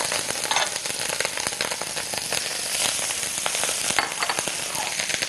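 Garlic and onion fry in butter in a pan, giving a steady, close sizzle with crackling pops throughout.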